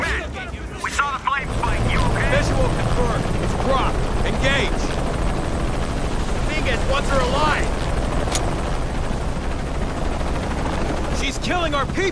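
A loud, constant helicopter drone with rotor thrum in Shadow of the Tomb Raider, set in Mexico, with occasional sharp bursts and shouting voices layered over it.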